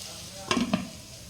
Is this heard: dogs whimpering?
no